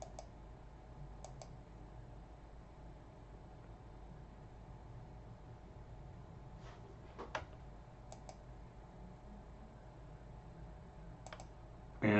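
A computer mouse gives a few sparse, faint clicks, some in quick pairs, scattered over a quiet room with a low background hum.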